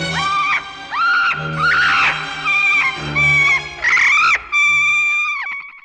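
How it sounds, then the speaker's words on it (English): Loud, harmonic screeches repeat in a series of drawn-out calls, each rising then wavering, close and insistent with brief gaps between them. "capped off by Benedict's sudden realization and the bird screeching at him from beyond the grave."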